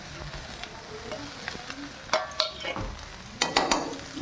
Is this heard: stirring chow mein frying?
yes